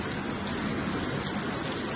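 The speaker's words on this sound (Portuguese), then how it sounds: "hoje que está chovendo aqui" Steady rain falls outdoors on a farm, a constant even hiss of drops with no gaps or voices, moderately loud throughout.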